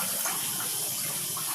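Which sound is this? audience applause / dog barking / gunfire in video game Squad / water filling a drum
water filling a drum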